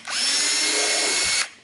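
A 3/16 drill bit in a power drill whines at full speed for about a second and a half, close and loud, then spins down, boring holes for pop rivets in a Suzuki motorcycle tank.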